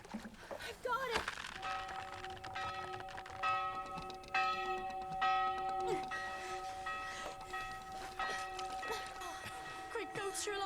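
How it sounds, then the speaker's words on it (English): A long ringing bell with sustained, layered metallic tones that hang and decay over several seconds, heard beneath people talking. "That's a really long ringing bell."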